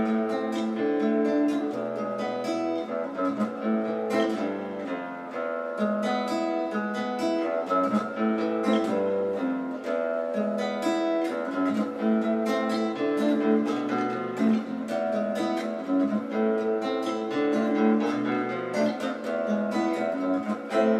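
Nylon or acoustic guitar picking a Cuban guajira cha-cha-cha chord progression, steady syncopated strummed-and-plucked rhythm played alone, close and fairly loud for about twenty seconds.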